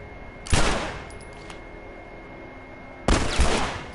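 Two loud, sharp gunshots in The Last of Us Remastered, the first about half a second in and the second roughly two and a half seconds later, each with a ringing echo tail that fades into quiet ambience.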